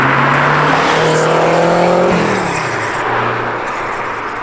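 Light car with very thin bicycle-like front tyres accelerating, its engine drone rising in pitch and then dropping, with loud creaking and rattling noise throughout; no talk.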